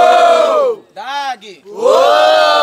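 Crowd at an outdoor rap battle in Brazil roars and shouts loudly in two big bursts, with a short dip of quieter yelling between them, close and dense.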